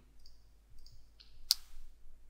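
Computer mouse clicking during a walkthrough of startup programs in a Windows utility, with several faint quiet clicks followed by one sharper, louder click, close by and with no talking.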